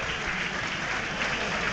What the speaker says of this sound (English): That applause is because that you can hear because Toby Adebayo is only just making his way back towards the dugout now